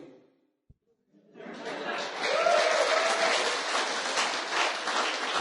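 Audience applause breaks out at a business seminar on scaling, swelling from near silence into a sustained, fairly distant wash of clapping that carries on steadily to the end.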